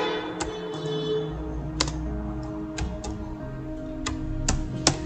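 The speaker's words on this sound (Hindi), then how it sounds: "मी कंप्यूटर टाइप कले" Typing on a computer keyboard while working in MS Word, a few sparse, sharp key clicks spaced irregularly over a low steady background hum.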